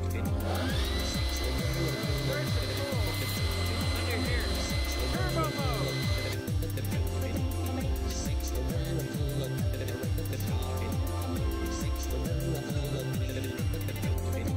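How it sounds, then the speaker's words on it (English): A leaf blower roars steadily in a backyard, aimed at a ski helmet, with a continuous whooshing drone and a high whine that shifts partway through, and a voice talking over it. "I'm gonna use the leaf blower to illustrate what I'm talking about."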